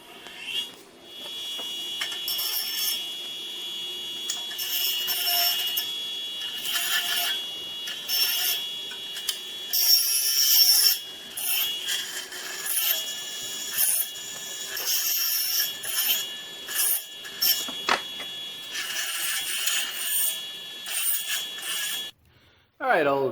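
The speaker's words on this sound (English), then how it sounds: "all of the cuts, all have little burrs on them, and I just got to deburr them all" Metal trailer brackets are deburred with a tool scraping and rasping along their cut edges, an irregular run of gritty bursts and rubbing strokes that keeps stopping and starting, with a brief near-silence just before the end.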